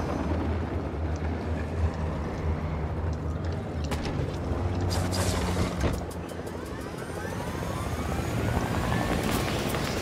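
Helicopter rotor and engine noise from a video game during a live multiplayer session, a steady broadband roar throughout with some mechanical sweeps, loud and continuous.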